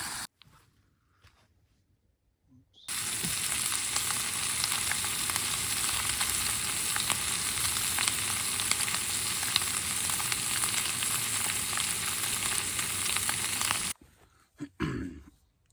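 Food sizzles steadily in a pan over a camp stove at a wild camp, a loud, close crackling hiss running unbroken for about eleven seconds after a quiet start, then cutting off.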